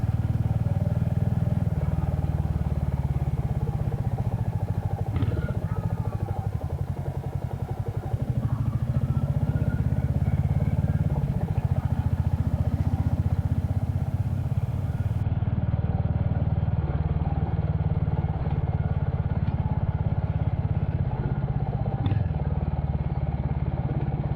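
A Royal Enfield Hunter motorcycle in Dapper Grey rides steadily along, its engine a continuous droning thrum with road and wind noise, loud and close throughout with no talk.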